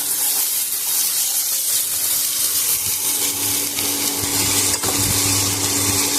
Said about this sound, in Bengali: এবার কেটে ধুয়ে রাখা আলুগুলো দিয়ে দেবো।